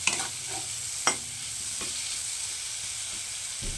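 Katla fish curry masala with vegetables being stir-fried in a pan: a steady close sizzle with a few sharp spatula scrapes and knocks, no talking.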